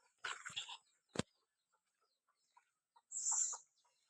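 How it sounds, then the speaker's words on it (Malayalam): Household hens, two of them having recently brooded chicks, give short, soft clucking bursts separated by quiet gaps, heard close and fairly faint. "അപ്പോൾ നമുക്ക് അടുത്തത് കാണിക്കാൻ പോണത് നമ്മുടെ കോഴികളാണ്."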